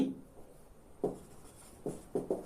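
Chalk or marker strokes on a classroom board during a Bengali translation lesson: several short scraping bursts, one near the start and a cluster of three toward the end, close and moderately loud with no talking.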